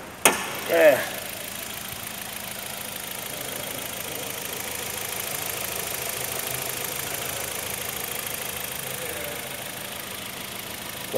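A 1.6-litre, 130-horsepower Hyundai Elantra engine with start-stop idles steadily at a moderate level, with a brief clunk near the start and a low, even hum throughout.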